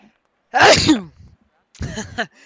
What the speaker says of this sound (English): And as I sneeze